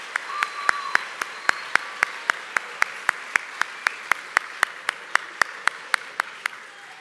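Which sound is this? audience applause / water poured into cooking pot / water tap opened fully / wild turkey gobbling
audience applause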